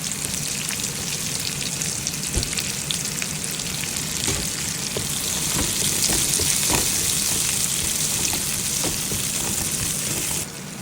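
Ginger, garlic and plenty of onions sauté in a pan with a loud, steady sizzle, punctuated by close clicks and scrapes of stirring throughout.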